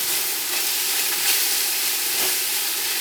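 Garlic sautéing in a pan for a meat sauce spaghetti, giving a steady close sizzle and soft hiss that holds even throughout with faint stirring.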